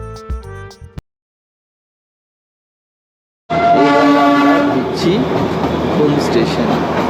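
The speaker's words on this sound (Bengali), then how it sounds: "বাতাসিয়া লুপ ছেড়ে ট্রেন এগিয়ে চলেছে আমাদের যাত্রাপথের প্রথম স্টেশন ঘুমের উদ্দেশ্যে" The Darjeeling Himalayan toy train on the Darjeeling–Kurseong line runs out past Batasia Loop toward Ghum. A short burst of sound gives way to silence, then a loud, steady rolling rumble of the carriages with tonal squeals and whistle-like notes.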